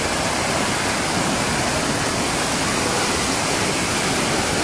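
Floodwater rushing through a street in Taunggyi during a storm, a loud, unbroken broadband roar of churning water that stays steady throughout with no voices over it.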